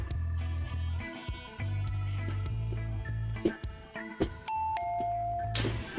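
A doorbell rings in a visual novel video game, a two-tone ding-dong chime sounding over a steady low game music loop, with a few clicks around it.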